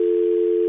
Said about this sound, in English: Jacqueline, hang on, it's ringing.